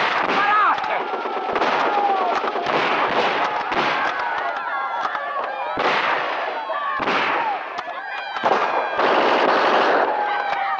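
Gunfire crackles in a 1962 Italian war film battle scene, dense volleys of sharp shots and blasts layered under shouting voices, loud and nearly continuous.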